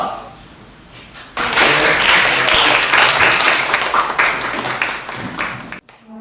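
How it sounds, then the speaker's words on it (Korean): Audience at a lecture claps to welcome the guest speaker, a quiet voice-like lead-in giving way to a sudden burst of dense, close applause that holds steady and then cuts off abruptly. "나오실 때 우리가 환영의 박수도 좀 모시기 바랍니다"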